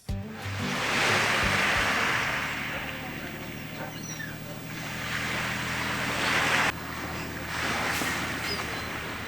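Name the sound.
water waves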